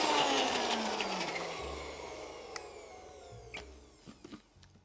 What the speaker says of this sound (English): We're going to put that in our little blender here and blend it up till it's really, really creamy.